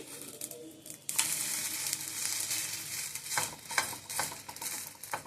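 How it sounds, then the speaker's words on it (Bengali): Egg roll batter spread in a pan and flipped to fry golden on both sides, a close, crackling sizzle that starts quietly then jumps louder, broken by spatula scrapes and clinks. "খুব ভালোভাবে কিন্তু দুপাশে লাল লাল করে ভেজে নেব।"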